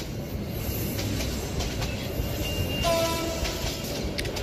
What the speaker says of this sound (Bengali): হঠাৎ হুইসেলের আওয়াজে হকচকিয়ে উঠলাম